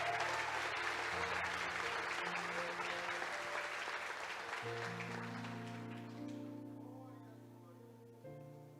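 A church congregation breaks into dense, sustained applause that gradually fades, while a low organ or keyboard plays held chords underneath and a few voices call out.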